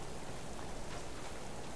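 Rain falling in the survival game Subsistence, a dense, even hiss that stays constant and fairly soft throughout.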